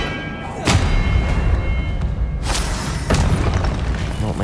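An Incendio fire spell in the video game Hogwarts Legacy goes off as heavy, booming blasts, with a loud burst, a sustained roaring rumble and a second thump a few seconds later.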